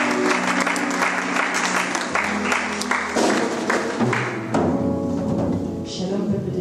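A church congregation applauding and cheering, dense sustained clapping with voices rising through it, loud and steady throughout.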